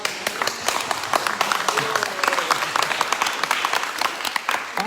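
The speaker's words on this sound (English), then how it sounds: "He said he wants first clapping and then he will come." Audience at a morning program of a spiritual retreat in Belgium claps steadily for several seconds, a dense, even patter of many hands with no break and no voices on top.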